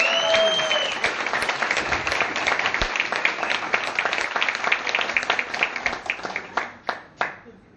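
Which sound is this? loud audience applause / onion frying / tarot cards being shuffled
loud audience applause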